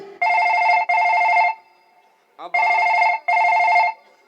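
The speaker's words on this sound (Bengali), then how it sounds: "ফোন ঢুকছে আবার ফোন ঢুকছে রে" A phone rings loudly and close by. Its electronic ringtone plays as two pairs of sustained trilling bursts separated by a brief pause, with nothing else heard.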